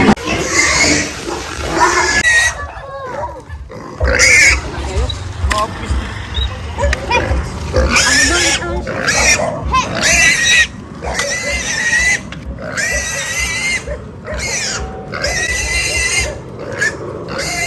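Pigs squeal loudly and repeatedly at a slaughter site in the Philippines, shrill cries rising in overlapping bursts with brief gaps, close and dominant, while people talk nearby.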